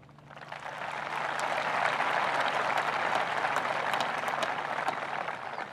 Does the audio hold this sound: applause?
yes